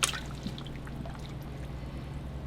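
Cold water runs steadily into a sink in which a wig is being washed. It makes a soft, continuous pouring trickle at close range, with no talking.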